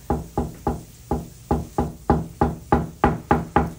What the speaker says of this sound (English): You get used to the knocking.